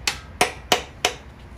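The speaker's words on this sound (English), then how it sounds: "got a little ball peen hammer. I'm just gonna tap on it a little bit, not hard" A small ball peen hammer taps lightly on a small block Chevy 283 engine during a teardown, four sharp, evenly spaced metallic strikes close up, with a fainter fifth tap trailing off.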